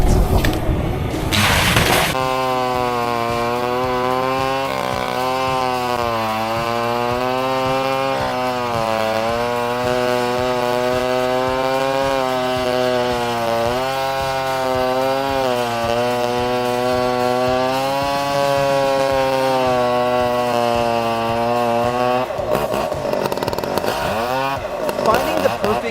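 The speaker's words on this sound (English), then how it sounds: "The Husqvarna 572XP meets this need with its modern chainsaw design, offering absolute confidence." A Husqvarna 572XP chainsaw engine roars loud and close, holding a steady high-revving whine for about twenty seconds with slight pitch wavers, then drops off near the end.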